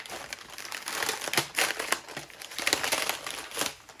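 Paper packaging crinkles and rustles in bursts of crisp crackling while an Off-Grid Knives Scorpion knife is unboxed, close and fairly quiet with no talking.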